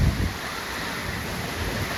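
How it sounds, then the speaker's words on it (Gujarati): Strong storm wind roars during a severe cyclone, a loud, steady rushing buffet against the microphone with a heavier gust at the start. "પવન તો હજી હટવાનું નામ જ નહીં લેતો"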